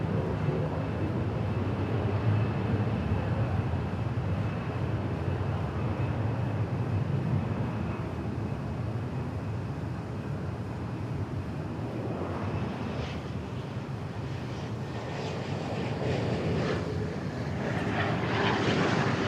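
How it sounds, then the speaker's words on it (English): A Frontier Airbus A320 taking off from runway 18L at DFW Airport, a long steady jet engine roar heard from a distance, with broadband rumble and some wind noise on the microphone, no talking. "Frontier A320 taking off here on 18 left."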